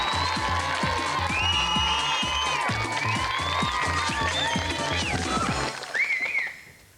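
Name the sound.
studio audience applause for a game show contestant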